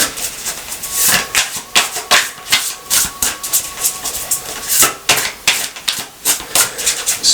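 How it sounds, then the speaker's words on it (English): Tarot cards being shuffled by hand, a rapid run of crisp papery riffles and flicks in uneven bursts, close and fairly loud, with no talking. "Let's do a couple more shuffles."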